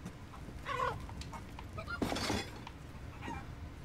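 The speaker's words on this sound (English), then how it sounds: "How come the chickens were spared from this massacre?" Chickens cluck in a Resident Evil Village game scene, a few short faint clucks and squawks at moderate distance over a low ambient background, with no talking.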